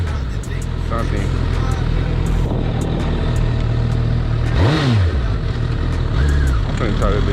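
A liter-class sport motorcycle engine revs hard in second gear, a loud, close, continuous roar with rising and falling pitch sweeps, while people talk over it.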